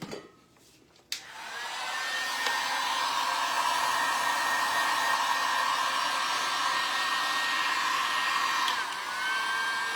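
A heat gun blows hot air to dry a craft project outdoors, starting with a click and then running as a loud, steady, close whooshing roar for several seconds, with no speech.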